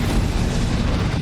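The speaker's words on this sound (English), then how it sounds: "she like ducks and covers when the grenade goes off" A grenade explosion in a movie, a loud, dense, rumbling boom that fills the whole short stretch without any talk.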